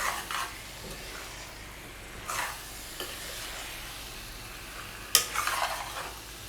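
Chicken pieces being mixed and fried in a pan for ginger chicken, soft intermittent scraping strokes over a faint low sizzle, with a sharper clatter near the end.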